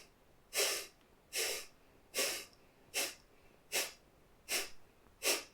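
Kapalabhati yoga breathing: seven forceful nasal exhalations in a steady rhythm, each a sharp, close puff of air with short quiet gaps between, no talking.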